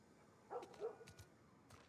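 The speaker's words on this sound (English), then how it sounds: "You guys hear the dog barking?" A dog barks in The Last of Us video game, a couple of quiet, short yips and woofs at a distance, faint against low background.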